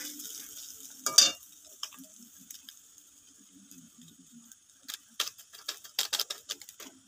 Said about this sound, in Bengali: 3 প্যাকেট ম্যাগির মশলা আমি মিশিয়ে দিব।